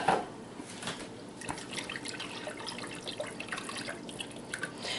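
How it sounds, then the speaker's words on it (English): Milk poured into a copper pan over medium-low heat, a steady trickling liquid stream with faint splashes, close and fairly quiet, with no talking. "I'm going to add the rest of my milk."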